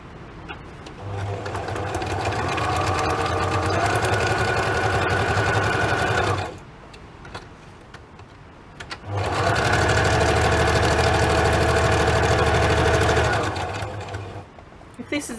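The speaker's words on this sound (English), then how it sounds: "If this is a bit noisy, just fast forward this sewing bit." A sewing machine stitches fabric for window pockets in a craft project, running loudly and steadily in two long bursts separated by a brief pause.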